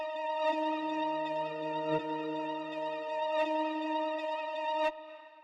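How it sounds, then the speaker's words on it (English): A rendered dark sample run through Shaper Box drive holds a steady, buzzy, ringing harmonic tone with a faint low sweeping layer beneath and a few sharp clicks, cutting off abruptly near the end. "Kind of like a sweep effect."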